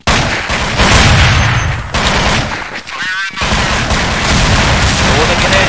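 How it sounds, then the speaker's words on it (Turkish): Loud, dense rapid gunfire in Counter-Strike 1.6, continuous bursts of shots with a brief gap midway, close and dominant throughout. "Orada yine attığım mermi gidiyor."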